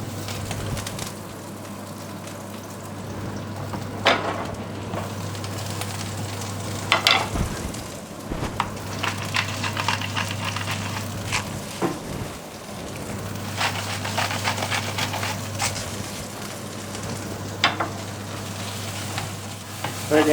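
Chopped onions sizzle in hot olive oil on a gas stove for a steak sandwich, a steady close frying hiss with occasional stirring scrapes and a low hum underneath, no voices.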